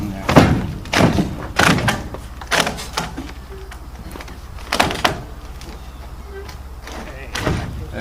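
Rotten wooden deck boards being pried and ripped out of a trailer, a series of sharp cracking thumps and clunks at irregular intervals, close and loud, with someone talking between them.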